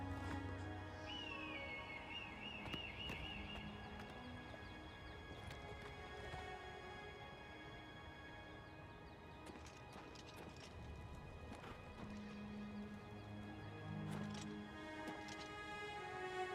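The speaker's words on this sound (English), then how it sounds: "We can mountain climb on our horses." Horse hooves clip-clop steadily as a horse climbs a mountain in the Oblivion Remaster video game. The hoofbeats are rhythmic and fairly quiet, over a soft musical game soundtrack.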